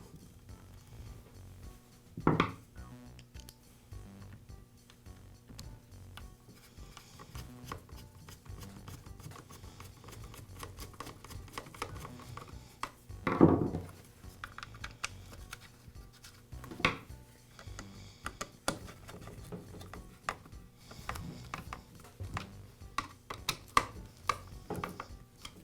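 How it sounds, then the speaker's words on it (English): A plastic fuel tank for a Bolens string trimmer is pressed into its housing and fastened with screws: scattered close clicks, taps and small plastic knocks, a few louder thumps, and light scraping over a quiet background, with no speech. "Now insert these tabs on the tank back into the openings on the housing and secure the tank with the screws."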